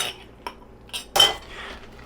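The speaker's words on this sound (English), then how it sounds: "first one drained and going in the Instant Pot" Drained sauerkraut is dumped into an Instant Pot, giving a few short scraping and clinking utensil sounds, with one louder wet clatter near the end, close and alone.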